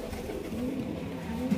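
A sick pigeon gives a soft, low coo up close, brief and fairly faint over a quiet background.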